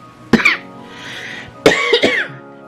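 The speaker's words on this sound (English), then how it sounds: "Sorry, I was really trying not to cough." Two sharp, close coughs sound a little over a second apart, each a burst with a brief rasp, with quiet breathing in between.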